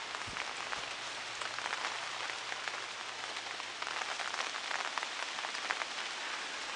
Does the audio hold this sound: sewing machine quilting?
no